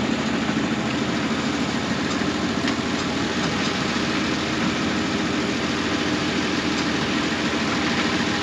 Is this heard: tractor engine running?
yes